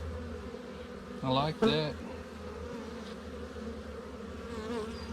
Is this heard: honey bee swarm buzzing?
yes